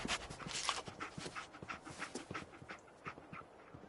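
Dogmeat, the dog companion in Fallout 4, pants rapidly and rhythmically close by, a soft quick huffing that runs the whole time, fading slightly toward the end.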